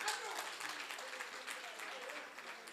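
At a provincial general council meeting, an audience breaks into a brief, faint burst of steady hand clapping that fills the hall evenly before fading.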